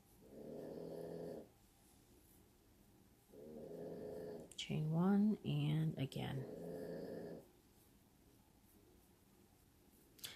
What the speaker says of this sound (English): He is snoring very loud.